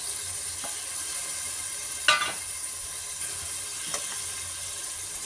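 Beans, carrot and green peas frying in a pan for vegetable biryani, giving a steady, soft sizzle throughout, broken twice by brief louder crackling bursts as the vegetables go in and get stirred.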